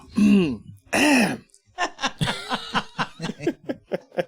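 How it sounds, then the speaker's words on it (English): Someone clears their throat twice with rough, gravelly rasps, then a short burst of low chuckling and snickering follows. "Clear your throat, bro."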